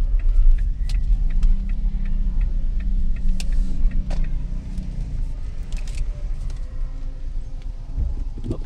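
A car's engine rumbles steadily from inside the cabin as it drives slowly and pulls into a parking spot, with low road noise throughout and brief light clicks.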